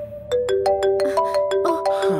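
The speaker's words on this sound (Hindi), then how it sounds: "पापा फोन कर रहे हैं।" A bright electronic phone ringtone plays a rising chime melody of quick repeated tones, loud and close, with no talking.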